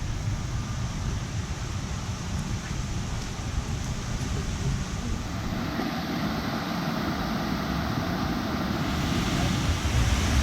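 A waterfall at Moalboal in the Philippines gives off a steady, soft rushing roar of falling water that swells slightly toward the end, with no other sounds over it.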